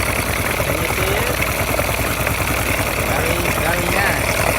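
A Honda motorcycle engine idles close by with an even, rapid low putter and a broad mechanical hum, loud and steady for the whole stretch.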